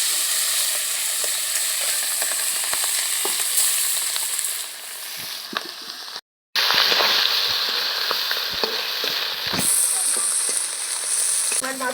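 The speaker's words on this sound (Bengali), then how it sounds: "বাকি মাছগুলো এবার ভেজে নেব।" The remaining fish fries in hot oil with a dense sizzling crackle and scattered pops. A short silent gap interrupts it midway, after which the frying returns louder.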